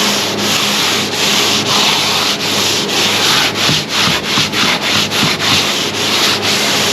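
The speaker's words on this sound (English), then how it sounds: "And we are using 80 grit on this at this point" Hand sanding a fiberglass part with 80 grit sandpaper: loud, coarse scratching strokes sweep back and forth close by in a steady rhythm, quickening into short rapid rubs partway through.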